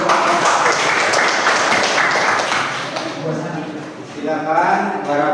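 Classroom applause, a short burst of quick clapping from students that fades out, followed by a voice speaking.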